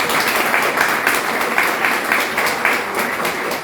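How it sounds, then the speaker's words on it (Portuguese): Steady applause from a church congregation at a ministry anniversary service, a dense even wash of clapping held at a constant level with no voices over it. "Dá uma salva de palmas."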